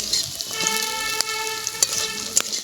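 Green chili, onion, garlic and lentil bori frying in oil in a kadai, a close steady sizzle broken by sharp clicks and taps of a spoon against the pan, all under a sustained tonal hum.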